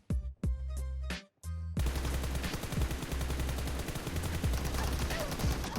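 Gunfire in the mobile battle game PUBG Mobile: a few separate loud single shots open, then a dense, continuous burst of rapid automatic fire rattles on without pause, close and harsh.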